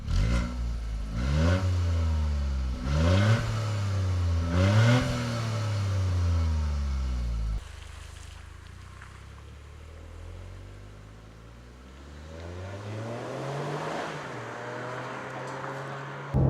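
A Toyota GR Yaris GTS with a 1.6-litre turbocharged three-cylinder engine on a mountain run. It revs hard through several quick upshifts, then drops to a quieter cruise before building again on another climb.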